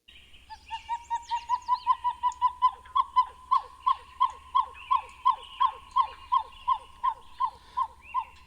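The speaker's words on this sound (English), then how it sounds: "that big sound came from that guy, and it was a pied-billed grebe" Pied-billed grebe call played back from a recording: a long series of rhythmic hollow hoots that start quickly, then settle into a steady, evenly spaced pulse, fairly soft and with no talking.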